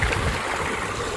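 Water gushes from a running bore well, a loud, steady rushing flow close by with no voices.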